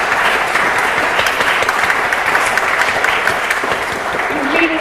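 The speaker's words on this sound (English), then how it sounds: "I think we deserve a big round of applause" Close, full audience applause at a writers' festival conversation by the sea, dense steady clapping throughout with a brief voice appearing near the end.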